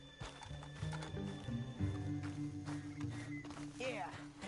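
A horse in a Western-style show clip-clops and whinnies up close, its hoofbeats plodding unevenly beneath a voice, with a sharp neigh rising near the end.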